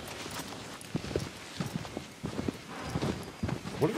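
A horse trots in Shadow of the Colossus, a sequence of uneven hoof thuds at a moderate pace over a faint ambient backdrop, close and fairly clear.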